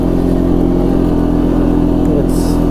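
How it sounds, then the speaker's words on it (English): A 2016 Arctic Cat XC 450 4x4 ATV runs at full throttle while plowing through snow, its engine giving a steady, loud, unbroken drone for the whole stretch. "This right here is full throttle on this unit."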